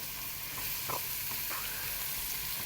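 Onions and green chillies fry in a pan over a very low flame, giving a steady soft sizzle with a few brief stirring scrapes, close and fairly quiet, with no talking.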